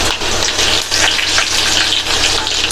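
Mustard seeds, urad dal, cumin, crushed garlic and dried chillies frying in hot oil, a steady close crackling sizzle with bright spattering pops that carries on evenly throughout.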